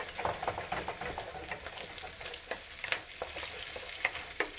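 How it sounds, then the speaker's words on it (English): Eggs scramble and fry in a hot pan, a continuous crackling sizzle punctuated by repeated scraping and stirring strokes of a utensil, close and moderately loud with no talking. "You scramble the eggs."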